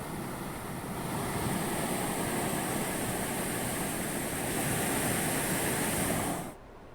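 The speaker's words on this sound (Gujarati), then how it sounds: "હેરણ નદી પરનો રાજવાસણા આડબંધ ઓવરફ્લો થયો છે" River water from the swollen Heran river pours over the Rajvasna weir, a constant broad rushing roar that holds steady and dense before stopping abruptly near the end.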